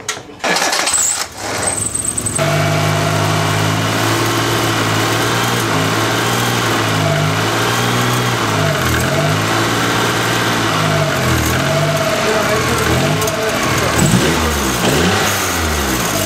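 A 1989 Geo Metro engine, fitted to a homemade reverse trike with new motor and transmission mounts, cranks and catches after a couple of seconds, then settles into a loud, steady idle that runs on without talk.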